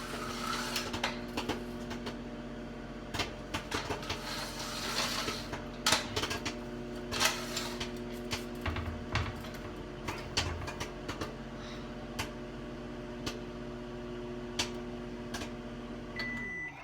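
A smart microwave oven runs while cooking popcorn, with a steady hum and a dense scatter of sharp popping kernels throughout, plus an occasional beep.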